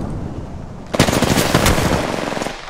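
Rapid automatic gunfire in a multiplayer video game erupts after a quiet start, a loud sustained burst of close shots with a few heavier cracks, no talk over it.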